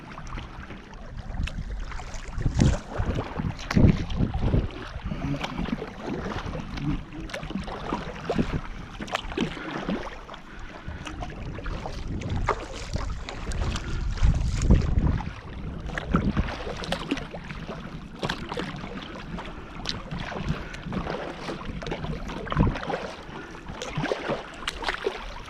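A Dagger Cross Over kayak drifts on open water in the wind: quiet lapping and soft splashes against the hull, with gusts of wind buffeting the microphone and no talking.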